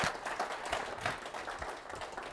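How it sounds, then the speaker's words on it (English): An audience at a monitoring software conference applauds a speaker taking the stage, a brief, loose burst of clapping at moderate distance that stays fairly even throughout. "A big round of applause."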